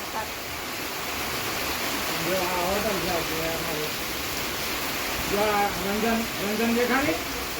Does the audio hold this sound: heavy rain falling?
yes